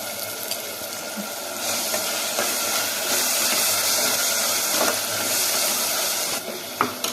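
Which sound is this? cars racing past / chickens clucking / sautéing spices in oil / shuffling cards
sautéing spices in oil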